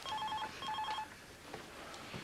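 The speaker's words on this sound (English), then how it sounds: "If it's Ross, tell him I'm out and I'll phone him back" A home telephone rings indoors with two clear electronic ring bursts, then stops and leaves a quiet room tone.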